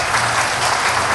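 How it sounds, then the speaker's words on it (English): Loud, dense applause from an audience at a public meeting on a Bay Area regional plan, a continuous roar of clapping close by with no speech. "I'd like to ask you to hold your applause"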